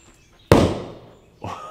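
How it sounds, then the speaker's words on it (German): A firecracker blasts under a carpet indoors: one sharp, loud bang that decays over about a second, followed by a second softer thump or rustle shortly after, with no talking. "Einer meiner Lieblingsböller, finde ich wirklich sehr, sehr geil und auch sehr laut, sehr stark."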